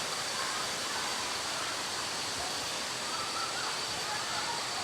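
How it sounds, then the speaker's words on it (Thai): Pacho waterfall at Sungai Padi in Narathiwat, Thailand, roars as a steady, dense wash of falling water, loud and continuous throughout with no change in level. "อันนี้เป็นน้ำตกปะโจนะฮะสุไหงปาดีนะฮะ"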